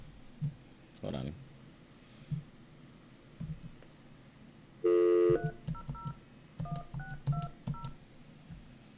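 Telephone keypad dialing tones in an office, a short burst of steady tone followed by a quick series of separate beeps, with speech and clicking nearby.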